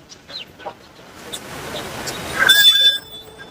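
Meat roosters and chickens cluck softly in the background at the Kunnathur livestock market in Tiruppur, with a louder squawk near the end and a voice speaking over it.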